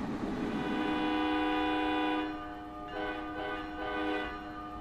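A sustained, loud train horn on a multi-level commuter train between Trenton and New York blares a steady multi-tone chord, then breaks into shorter repeated blasts as it continues outdoors.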